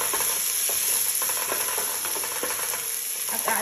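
Onion, ginger and garlic sizzle in a hot pan while a spoon stirs them, giving a continuous bright fry with soft scraping strokes close up and no voices.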